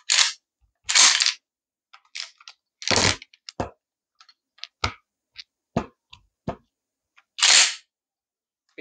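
A Remington 870 pump-action shotgun being loaded and worked, a series of sharp, close metallic clacks and slides separated by silent pauses, with a few louder racking strokes standing out.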